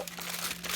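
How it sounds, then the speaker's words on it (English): Tissue paper crinkles and rustles briefly and close up while gift wrapping with a Felicity Jane warehouse box, a short continuous crumpling with no talk. "this really great tissue paper here"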